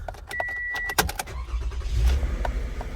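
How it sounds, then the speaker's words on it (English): Keys jingle and click, then the engine of a 2015 Toyota Sienna cranks and turns over into a low, steady idle nearby. "we're gonna start the car"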